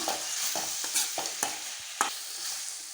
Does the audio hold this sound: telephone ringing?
no